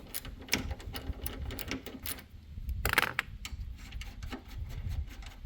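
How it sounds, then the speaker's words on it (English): A ratchet with a 10mm socket works a bolt loose on a 1999 GMC Sierra, giving quick, close metallic clicks in irregular bursts with one sharper clank partway through. "Now what I'm going to do, take the ratchet with the 10mm on it and"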